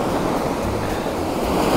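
Ocean waves break on the rocks of a beach with a steady, loud wash of surf and some wind noise on the microphone, and no voices.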